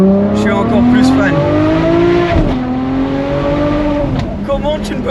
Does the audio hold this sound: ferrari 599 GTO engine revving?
yes